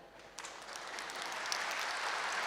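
Audience applause in a Brahma Kumaris spiritual gathering, a steady wash of many hands clapping that starts abruptly and keeps going, fairly loud and continuous, with no talking over it.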